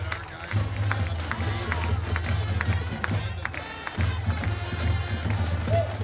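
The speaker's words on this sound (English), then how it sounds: "roar of the crowd here." A high school football crowd roars in the stands as the Fond du Lac Cardinals take the field on a night game, a broad wash of cheering and clapping under a commentator's voice, with a low drum-like thumping pulsing throughout.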